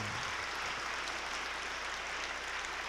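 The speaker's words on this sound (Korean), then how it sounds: "우리 한번 다 뜨거운 박수를 보내시기 바랍니다." A congregation claps together inside a church during a stained-glass dedication service, dense continuous applause that holds steady and fairly loud for the whole stretch, with no voices over it.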